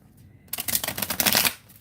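A brand-new deck of matte black-edged playing cards is riffled close up after a quiet start, giving a dense, fluttering burst of card flicks that lasts about a second before stopping.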